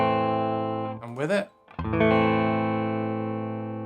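An electric guitar runs through an amp with the Two Notes Captor X enhancer, its sustained chord ringing loud and even, broken briefly by a short spoken phrase before the chord rings out again.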